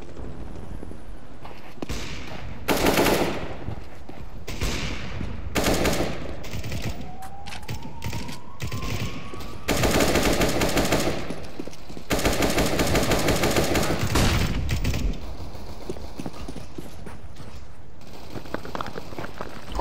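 Bursts of automatic rifle fire in the game Counter-Strike: Global Offensive come in repeated loud volleys separated by short pauses, with a faint in-game whoosh between them.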